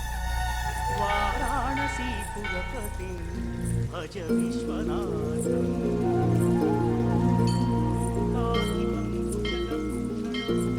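Rain falling steadily on surfaces, a continuous patter that stays under music and people talking over it for the whole stretch.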